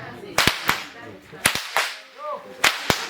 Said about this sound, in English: That creates a slapping sound at the end of the whip.